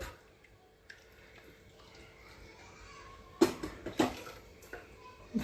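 Water trickles and splashes into a mixer jar in a few short bursts, with faint dripping between them, in an otherwise quiet indoor space.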